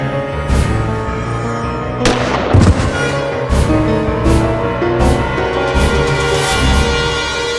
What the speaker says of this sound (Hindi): द्वितीय इन्होंने मनोज पर गोली चलाई।